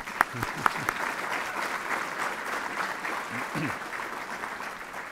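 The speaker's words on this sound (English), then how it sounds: "Now you can clap." Audience applause fills a civic State of the City address, a steady moderate patter of many hands with a few louder claps near the start and faint voices mixed underneath.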